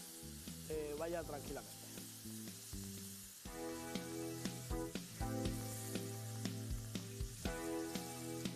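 Meat skewers (pinchos morunos) frying in olive oil in a pan over lowered heat: a steady sizzle mostly masked by loud background music, with a voice speaking briefly.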